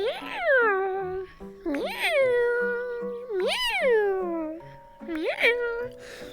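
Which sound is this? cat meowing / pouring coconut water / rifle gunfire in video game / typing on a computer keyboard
cat meowing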